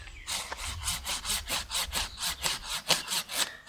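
A hand saw cuts through a Japanese maple branch in a Zen garden, about a dozen quick, even back-and-forth strokes rasping close by.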